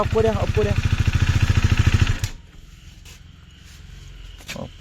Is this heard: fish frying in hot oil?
no